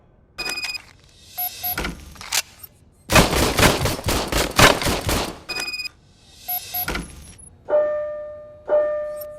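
An old service pistol is fired in the game RoboCop: Rogue City, giving a sustained burst of rapid, loud shots lasting a couple of seconds amid metallic clicks, jangles and electronic beeps, with quiet gaps between.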